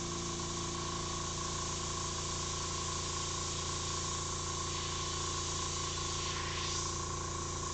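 An airbrush sprays paint in a continuous, even hiss with a steady compressor hum underneath, close and constant with no pauses.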